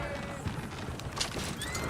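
Horses whinny and neigh in the Red Dead Redemption 2 video game, short squeals rising over a busy, constant din of hooves and commotion, with voices mixed in.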